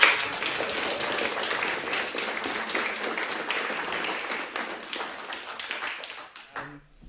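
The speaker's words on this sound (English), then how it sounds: "So if you'd like to give him a round of applause" Audience applause at an unplugged evening talk with Michael Tellinger: dense, sustained clapping from a full room that holds steady, then thins and fades out near the end.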